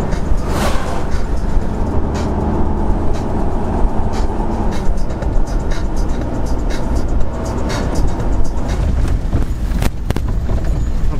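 Steady broadband road rumble from a car driving on a long road trip, continuous and fairly loud throughout, with faint speech-like murmurs now and then.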